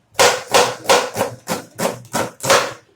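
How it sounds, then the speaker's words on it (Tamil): A knife chopping through an onion on a cutting board, seven firm, evenly spaced thuds close up and fairly loud, with no voices. "இந்த ஒரு வெங்காயத்தை கட் பண்ணி போட்டுடலாம்"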